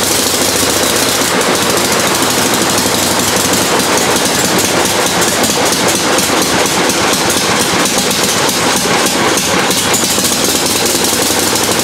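A Generac engine on a Green Eagle DFX61 paramotor, which has a misfire problem, runs loud and close. It makes a harsh, continuous buzzing roar with a rapid rattling beat for the whole stretch, and no voices are heard.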